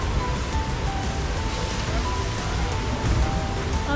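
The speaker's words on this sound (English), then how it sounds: "So it's essentially like a log ride and it makes a splash like that" An amusement park log ride boat at Kings Dominion splashes into water, a continuous loud wash of spray and rushing water that lasts the whole stretch, with wind noise on the microphone.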